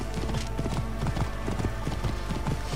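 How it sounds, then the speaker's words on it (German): Horse hooves clip-clop in a quick, steady rhythm as a horse is ridden in the video game Assassin's Creed Origins, with no talking over it. "So, ich habe jetzt das Pferd."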